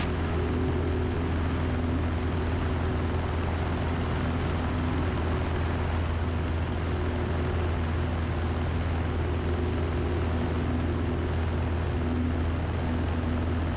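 A steady, unbroken drone from a small propeller airplane in flight, heard from inside the cabin, loud and constant throughout, with no talk.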